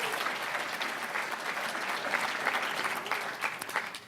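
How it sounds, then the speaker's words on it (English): An audience claps at a pharmacy graduating class awards celebration, a sustained, even burst of applause from a crowded room with no voices over it. "Now let's clap."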